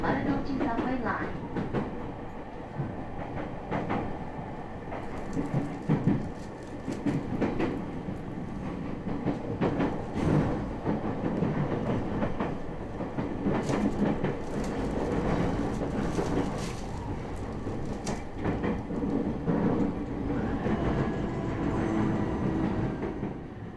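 A Japanese train rumbles and clatters into Tokyo Station, with steady rail noise, rhythmic wheel clicks and occasional sharper squeals heard from on board for the whole stretch.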